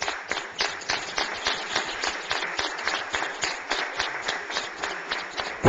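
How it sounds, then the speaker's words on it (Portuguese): A room applauds Lieutenant Oliveira and his team at a formal chamber session, with dense, steady clapping from many hands that carries on evenly throughout with no voices over it. "dar uma salva de palmas para o tenente Oliveira."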